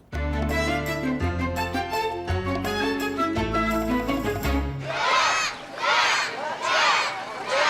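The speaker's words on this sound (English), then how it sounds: "With cheering kids from the Boys and Girls Club lining Rehoboth Avenue" Children from the Boys and Girls Club cheer and shout along Rehoboth Avenue, a burst of excited crowd voices rising after music fades, loud and close with rhythmic swells.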